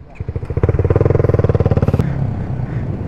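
A motorcycle engine runs at full throttle close by, with a loud, fast, pulsing exhaust note that climbs in pitch and then drops off sharply into a lower, steadier hum.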